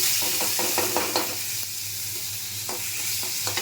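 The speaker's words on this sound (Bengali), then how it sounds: "রাঁধুনি ফোড়ন দিলাম" Radhuni spice tempering sizzles in hot oil alongside four fried tengra fish, a steady close crackle with clinks of a spoon stirring against the pan.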